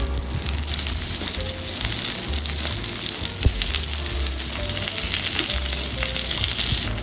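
Talong (eggplant) frying in olive oil in a pan, giving a dense, even crackling sizzle that stays close and constant throughout, with a faint low hum underneath and no talking.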